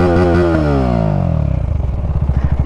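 A Husqvarna Vitpilen 250 motorcycle with an aftermarket exhaust runs close by, its engine revving up and then dropping back into a choppy, pulsing idle, loud and with no talking.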